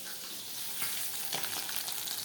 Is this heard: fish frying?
yes